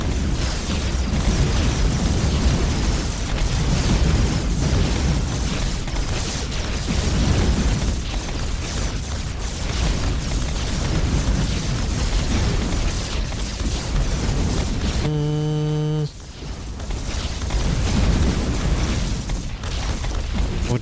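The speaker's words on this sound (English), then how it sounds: "Fire all the missiles at first." Missiles launch and explode in Hyper Empire as a dense, continuous roar of booms and bursts, loud throughout, with a brief tonal chime cutting through near the end.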